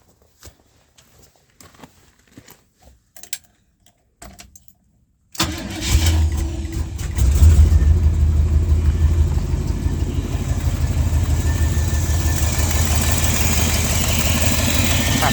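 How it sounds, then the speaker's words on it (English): A 1980 Chevrolet C30 dually truck engine cranks and fires on a cold start after a few quiet clicks, then settles into a steady, loud, rumbling idle that continues alone without talk. "let me see if it'll do a cold start for y'all"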